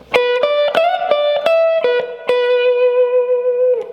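Overdriven electric guitar plays a slow blues rock lick, several picked and bent notes leading into a long held note that rings out, loud and alone.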